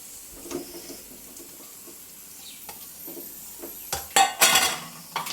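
Beef and spices go into hot oil for kala bhuna, giving a faint background sizzle with soft clinks of utensils, then sharper, louder metallic scrapes and bursts of hissing toward the end.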